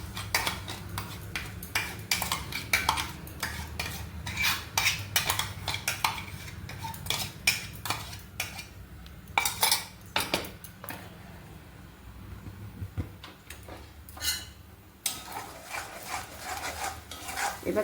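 A cashew and tomato masala paste being stirred in a pan for shahi paneer, with repeated spoon and pan clatter over a soft, low frying sizzle.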